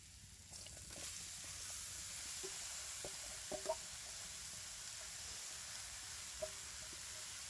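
Chopped bottle gourd goes into hot oil in a pan of fried-down spices, setting off a steady, soft sizzle that holds evenly throughout, with a few small pops and clinks and no talking.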